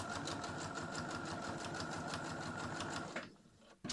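Sewing machine stitching a double-compartment fabric pouch, a fast steady mechanical whir with rhythmic needle clatter, close and continuous, then stopping near the end with a couple of brief clicks.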